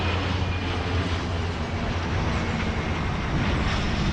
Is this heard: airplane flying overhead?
yes